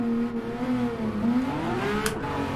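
A video game car engine in Assetto Corsa hums steadily and then revs up, its tone climbing and wavering, heard close with no voices.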